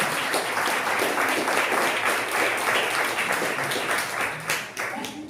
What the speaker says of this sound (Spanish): A ver, dale palmas al Señor.